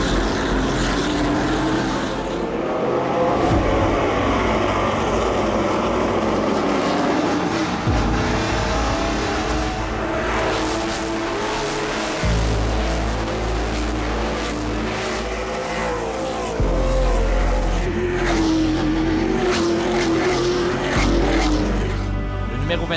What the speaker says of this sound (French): Le départ de ce Grand Prix de Trois-Rivières 2021 est lancé.